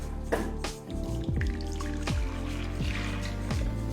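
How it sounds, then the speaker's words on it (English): Thick cream pours and trickles steadily into a large mixing bowl, with soft dripping and sloshing under steady background music. "then pour into a large mixing bowl."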